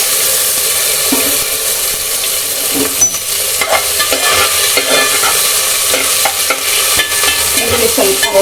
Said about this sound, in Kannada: ಈರುಳ್ಳಿ ಸ್ವಲ್ಪ ರೋಸ್ಟ್ ಆಗಬೇಕು.